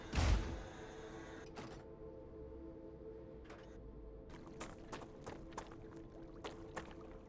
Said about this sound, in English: I don't see water, I just hear water.